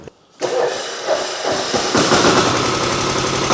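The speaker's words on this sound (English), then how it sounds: "But Mike has just informed me that he's here working on this diesel Steger." A diesel Steiger tractor engine starting up and rolling coal, a loud, close engine that catches after a brief silence, then roars and revs into a rough, steady clatter.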